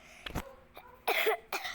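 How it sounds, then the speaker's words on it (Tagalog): Several sharp coughs from a person with a cold, a couple of short bursts followed by louder, harsher ones, close to the microphone with no talking. "Inubo pa ako ngayon, tsaka sinisipon."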